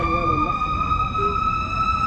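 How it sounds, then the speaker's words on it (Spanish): An emergency vehicle siren, an ambulance or fire engine passing by Parque Forestal during a 2023 Pokémon Go Fest, sounds as a loud, steady, high wail over low traffic rumble, with no one talking. "Iba pasando una ambulancia."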